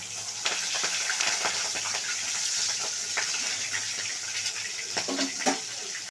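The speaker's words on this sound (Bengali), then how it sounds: "এবার মুড়োটাকে ভেজে নিচ্ছি।" Hilsa fish head, rubbed with salt and turmeric, fries in hot oil in a home kitchen, giving a steady close sizzle with scattered pops and crackles and no talking.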